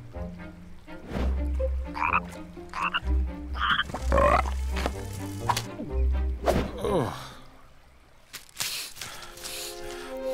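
A frog's croak within a children's storybook narration about a witch, her cloak and broom, heard as a few low, clear croaks between stretches of a narrating voice with music; the croaks may be voiced imitation.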